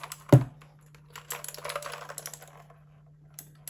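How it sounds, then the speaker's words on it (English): Clicky computer keyboard typing alone: a loud, close keystroke at the start, then a quieter run of rapid clacks with short pauses. "I'll give you guys a quick sound test now. So you can hear that it's a very clicky keyboard."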